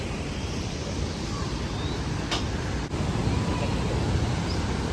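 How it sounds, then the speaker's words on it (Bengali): A waterfall produces a constant broadband rushing hiss, steady and unbroken throughout, heard from some distance with no distinct splashes. "ওই ঝর্ণাটা দেখে এত ভালো লাগতেছে, মন চাইতেছে আমি এই ঝর্ণাটার নিচে গিয়ে দাঁড়ায় থাকি"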